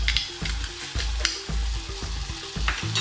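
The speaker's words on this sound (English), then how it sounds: "You hear that sizzling just a little bit" Minced garlic fries in a pan for a vegan sausage and okra recipe, giving a close, continuous sizzle with repeated scraping and knocking of a utensil stirring the food.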